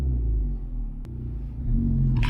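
A car drives slowly through a parking lot, heard from inside as a steady low engine and road rumble with one brief sharp click partway through.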